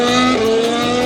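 A race car at the Japanese Grand Prix screams past close by, its loud, steady engine note holding high harmonics and dropping in pitch partway through the brief pass.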